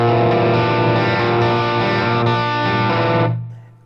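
A distorted chord rings out on a Greco Les Paul electric guitar, loud and sustained for about three seconds before being cut off and fading.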